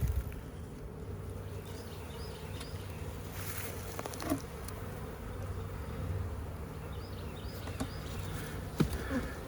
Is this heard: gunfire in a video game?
no